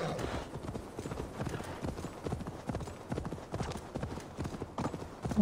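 Rapid, steady clip-clop of horse hooves trotting in the video game Assassin's Creed Valhalla, close and continuous, with a quiet background.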